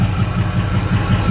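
A 2004 Ford F350 4x4 Lariat dually diesel pickup running with an aftermarket Magnaflow exhaust, a close, loud, steady low rumble with a pulsing throb, heard on its own without talk.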